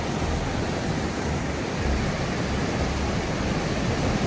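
Water rushes powerfully through a river dam, a dense, continuous roar of broadband noise, loud and steady without a break.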